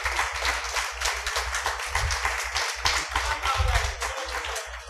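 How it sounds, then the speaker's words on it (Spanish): An audience claps for a guest being welcomed onstage at a live talk event, with steady dense clapping and a couple of louder swells, no voices over it. "¡Un aplauso!"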